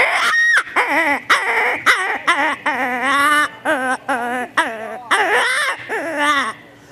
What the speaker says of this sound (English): that's when I change up and I go to a raspy call